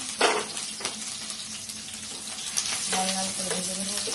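Onions, black cumin and chilli frying in oil in a pan for a bottle gourd dish, a steady close sizzle with a few sharp crackles and light stirring scrapes.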